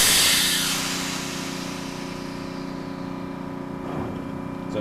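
A ship's main engine runs ahead in gear under air-operated pneumatic control, a steady close mechanical drone with tonal hum and hiss that eases slightly after an initial louder burst, with a brief rise near the end.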